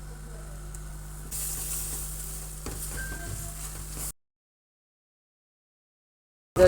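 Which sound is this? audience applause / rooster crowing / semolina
semolina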